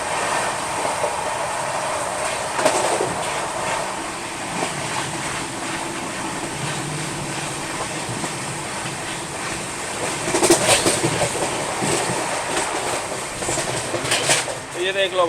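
Inside a first AC coach of the Delhi–Mumbai Rajdhani Express at speed, a steady broadband rumble of wheels and carriage fills the air, broken by occasional louder rail clacks and jolts, with faint background voices.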